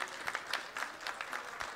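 Scattered applause from an audience greeting the Chief Minister at an outdoor tree-planting event, faint and distant claps in an uneven rhythm.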